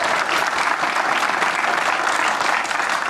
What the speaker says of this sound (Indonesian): tepuk tangan buat Om Sam